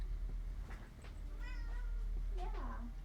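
A house cat gives a couple of short meows up close in a quiet room, while a person talks softly nearby.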